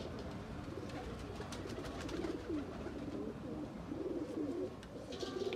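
Breeder pair pigeons coo softly and repeatedly in a loft setting, low rolling calls close by over a steady background murmur, with a faint chirp near the end.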